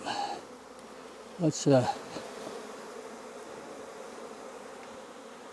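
A honey bee swarm buzzing steadily during a swarm transfer, a dense close hum running throughout while someone speaks briefly over it.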